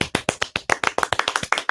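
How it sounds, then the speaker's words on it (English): A small group clapping in a radio studio, rapid sharp individual claps in a quick uneven rhythm, close and loud, with no voices over them. "We have loud applause here in the studio."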